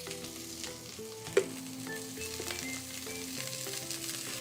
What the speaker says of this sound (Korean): 그리고 계속 같이 볶아줍니다.